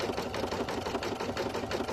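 A sewing machine stitches steadily at a slow, even pace during appliqué work, its needle thumping in a continuous close rhythm with no talking.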